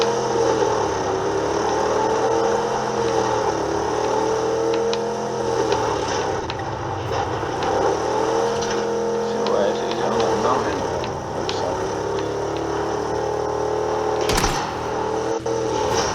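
A car engine drives in the PUBG video game, a steady mid-pitched drone that rises and falls with speed, loud and continuous throughout, while a player talks over it.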